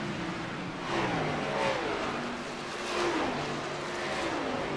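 Several race cars in a racing game drone together at high revs in a tight pack, their engine notes weaving and shifting in pitch, steady and moderately loud.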